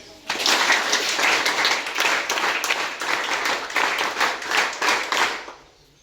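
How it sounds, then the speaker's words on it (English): A group of officer cadets in a classroom claps for a classmate, a burst of many hands that starts abruptly, holds as brisk, slightly uneven clapping for about five seconds, then stops. "Clap for him."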